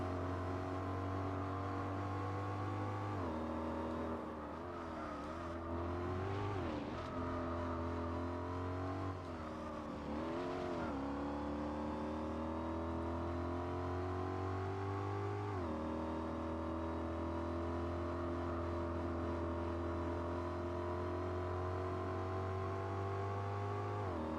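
A W12-powered supercar races in Gran Turismo 4, its engine note a steady, fairly quiet synthetic drone that climbs through the gears with repeated pitch rises and drops at each shift.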